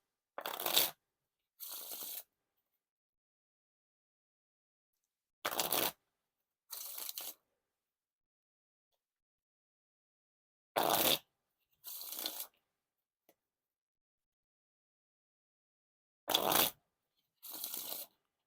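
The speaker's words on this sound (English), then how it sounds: "Now for the Riffle Shuffle or Bridge Shuffle." Blue Nexus playing cards are riffle shuffled and bridged in repeated pairs, each a short crisp burst of flicking cards followed by a softer cascading bridge, with long silent gaps between the four rounds, close and clear.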